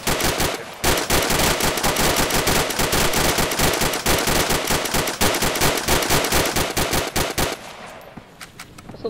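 Sustained automatic gunfire aimed at a sniper in the video game ArmA II: rapid, loud, evenly spaced bursts of shots hammering for about eight seconds before tapering into a few scattered final rounds.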